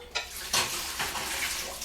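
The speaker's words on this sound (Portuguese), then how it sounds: "cobre com água," Water poured from a tap into a cooking pot over rice and lentils, a close steady splashing and trickling rush lasting throughout with a couple of louder surges.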